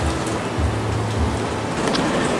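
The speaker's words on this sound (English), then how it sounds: "you can hear the pouring rain coming outside" Heavy rain pours down steadily outside during a summer thunderstorm on a farm, a dense even hiss that never lets up, with a faint low rumble underneath.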